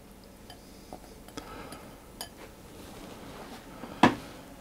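Soaked fruit and liquid for an Earl Grey tea loaf cake being tipped into a larger bowl, with faint scattered clinks and taps of bowl and utensils, then one sharper knock near the end.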